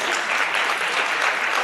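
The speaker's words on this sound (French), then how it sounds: "des applaudissements pour nos conférenciers" Audience applause for conference speakers at a French trading conference debate, a steady dense clapping that fills the whole short stretch at even loudness, with no talk over it.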